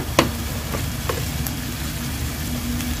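Ginger garlic paste fries with salt, turmeric and chili as the base for cooking fish, making a low, steady sizzle with a few sharp clinks from a utensil against the pan early on, close and with no voices.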